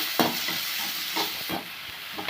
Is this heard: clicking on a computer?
no